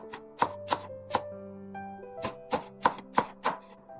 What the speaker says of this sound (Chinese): 准备1根金葱，斜着切成片，并分为葱白和葱绿两部分